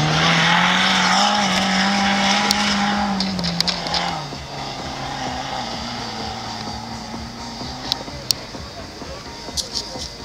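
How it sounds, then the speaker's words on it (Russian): Engines of jeeps in a paired sprint on a snowy track roar and drone at a distance, the pitch rising and then falling away. Someone speaks over the engine noise, and a few sharp clicks and knocks come near the end. "Впервые мы проводим именно парный джип-спринт с одновременным проездом трассы двумя автомобилями."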